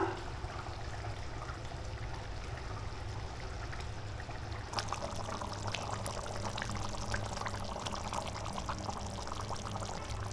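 Pieces of bootai fish go into a simmering masala in a pan, for a Mangalore-style puli munchi, producing a soft bubbling, pouring-like wash with a few light splashes and clicks midway, faint and low in level.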